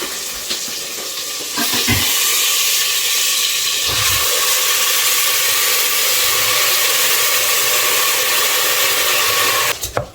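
Millet grains sizzle loudly in hot ghee, a steady close frying hiss with occasional stirring scrapes, no talking.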